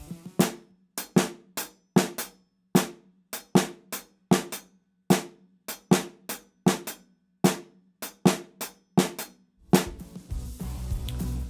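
Crisp drum strikes in a repeating uneven pattern, two interlocking pulses of four against three, played alone before a noisy wash at the end.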